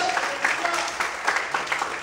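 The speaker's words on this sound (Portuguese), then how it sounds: "Quantos podem aplaudir o Senhor e glorificar a Deus?" Congregation applauding in a church, a steady wash of scattered hand claps sustained throughout, moderately loud with a faint murmur of voices mixed in.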